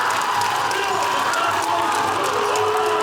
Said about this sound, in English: Crowd is buzzing